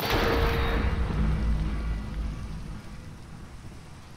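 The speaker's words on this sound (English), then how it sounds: "So let's change the weather to thunder." Rain and a rumble of thunder from a thunderstorm in the video game Minecraft, a heavy wash that fades steadily over a few seconds with no talking.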